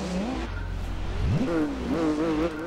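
In the video game Gran Turismo 4, a Mercury race car engine revs up at the race start with rising and falling pitch sweeps and steady engine drone, accompanied by brief tire noise.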